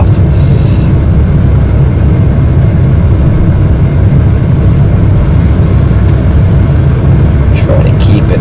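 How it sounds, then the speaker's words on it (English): Full-afterburner roar of an F/A-18 jet engine during a high-performance takeoff in Microsoft Flight Simulator X, a loud, steady low rumble filling the whole stretch with a brief higher burst near the end. "we'll put it to full afterburner because we're doing the high performance takeoff"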